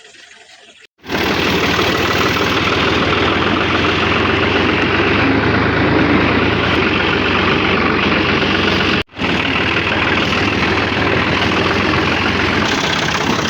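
A tractor engine starts abruptly and then runs loud and close, holding a steady rumbling idle. It cuts out for a moment and picks up again, with no talk over it.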